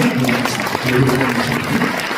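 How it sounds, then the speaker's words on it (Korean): Audience applause welcoming a guest speaker to a Korean church evangelism seminar, a short burst of crowd clapping with voices mixed in. "우리 나오실 때 큰 박수로 한번 환영해 주시고"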